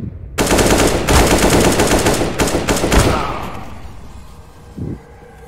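Counter-Strike: Global Offensive gunfire: loud, rapid automatic bursts rattle for about three seconds with short gaps, then fade into a trailing echo, followed by a single softer thud.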